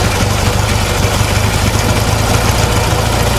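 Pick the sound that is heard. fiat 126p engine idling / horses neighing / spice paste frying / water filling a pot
fiat 126p engine idling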